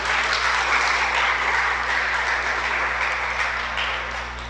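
A congregation at a Spanish-language Shabbat gathering claps together in a continuous, even roar of applause, with a low electrical hum underneath and the sound tapering off slightly toward the end.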